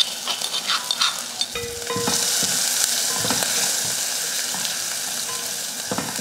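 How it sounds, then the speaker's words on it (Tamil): Mustard seeds and curry leaves sizzle and crackle in hot oil in a pan, a steady close frying hiss with scattered pops and stirring clinks, no speech. "எண்ணெய் காஞ்சதுமே கொஞ்சம் கடுகுலுந்து, கடுகு பொறிஞ்சதுமே கருவேப்பிலை, கொஞ்சம் பெருங்காயத்தூள், மஞ்சள் தூள்"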